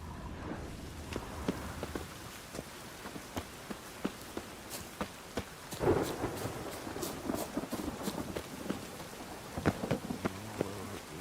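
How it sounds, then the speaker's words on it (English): Steady rain pattering down in a stormy Witcher 3 video game scene, with scattered sharp drop and crackle bursts and a deeper rumble near the middle, carrying on without any voices. "A storm, damn it."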